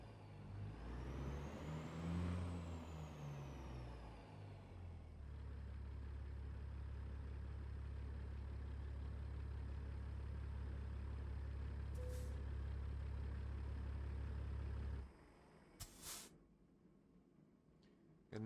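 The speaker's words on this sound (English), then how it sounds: "I don't know why the exhaust does that sound at like 1600 RPM" A truck's exhaust droning steadily at around 1600 RPM, a deep sustained rumble close by with a rising whine early on, then dropping away near the end with a brief hiss.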